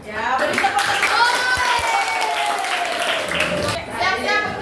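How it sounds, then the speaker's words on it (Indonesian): Children in a classroom clap together, their hands giving brisk scattered claps mixed with a sustained voice and chatter throughout. "Ya, beri tepuk tangan."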